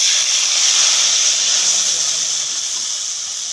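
Cumin seeds and bay leaf tempering in hot oil in a kadai, a steady loud hiss and sizzle holding evenly throughout with no breaks.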